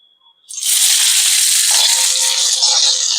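Chopped onion hits hot oil on an iron tawa, breaking into a sudden loud, steady hiss and sizzle that holds close and continuous.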